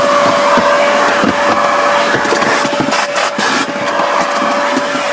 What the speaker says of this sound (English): I can vacuum all this up.